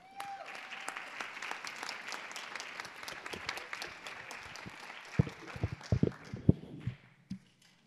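Audience at a school board of education meeting applauding honorees, sustained clapping from a modest crowd that thins toward the end into a few louder, nearby individual claps.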